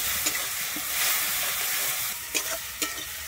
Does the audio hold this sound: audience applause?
no